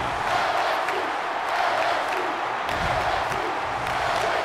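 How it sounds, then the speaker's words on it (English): Steady roar of a large stadium crowd in a college football video game, Mississippi State at LSU, with continuous cheering and noise and faint talk mixed in. "The crowd of this stadium, always a factor in a football game."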